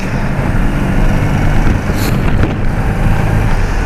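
An old motorbike rides along with heavy wind buffeting the microphone, a loud constant roar of wind and engine drone throughout, with no talking.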